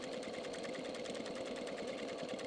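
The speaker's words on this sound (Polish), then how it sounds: "Tutaj ostatnie przeszycie właśnie z nitką 60." A sewing machine stitches steadily and quietly with size 60 thread in the bobbin, size 20 thread on top and a size 80 needle, making a fast, even mechanical whirring and ticking throughout.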